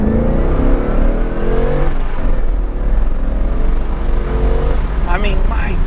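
A Corvette ZR1, once flood-damaged and now repaired, accelerates hard in first gear, its engine note climbing loudly and steeply before the next surge continues close by.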